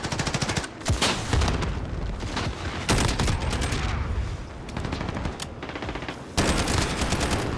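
Rapid bursts of SCAR-17 rifle fire in the shooter game Modern Warfare, loud and close, arriving in several strings of automatic shots separated by brief pauses.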